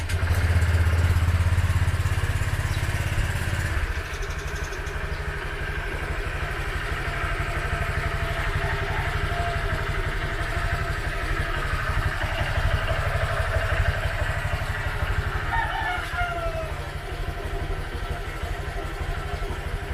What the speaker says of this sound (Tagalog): yan ang tunog ng ating motor na hindi pa change oil